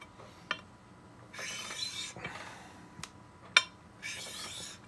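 A glass crystal clarinet mouthpiece is rubbed on sandpaper in two short, gritty scraping strokes, separated by quieter pauses and a few sharp glassy clicks and taps, close up with no talking.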